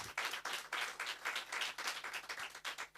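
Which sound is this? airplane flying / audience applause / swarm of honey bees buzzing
audience applause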